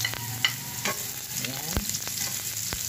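Ginger and garlic sautéing in a pan, a brief close crackling sizzle with a few stirring clicks, and a short spoken word over it.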